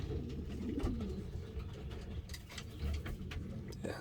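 Pigeons coo steadily in a breeding loft, soft low throaty calls repeating close by with faint rustles and ticks, no voices.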